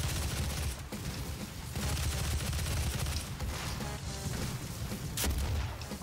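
Rapid bursts of gunfire from a newly picked-up weapon in Doom SnapMap, loud and dense, with booming shots rolling one into another across a frantic firefight.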